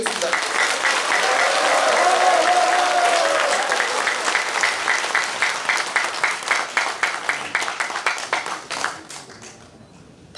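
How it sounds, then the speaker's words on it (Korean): A crowd at a Gimcheon party members' education meeting applauds to welcome lawmaker Na Kyung-won, a loud dense ovation that thins into slower, more distinct individual claps and fades away near the end, with a voice briefly heard early on. "나경원 의원님을 큰 박수로 모시겠습니다."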